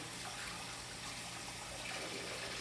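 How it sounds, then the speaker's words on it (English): Steady tap water runs continuously from a faucet into a sink while hands are rinsed under it, a constant close splashing hiss with no speech. "when I rinse my hands, I want to point my hands down in the downward motion, rinsing all surfaces of my hands."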